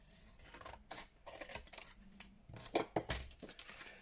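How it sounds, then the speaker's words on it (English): Scissors fussy-cut around a stamped paper image for a journal page, making a run of close, crisp snips and papery rustles with short pauses between cuts. "let's find some scissors and fussy cut"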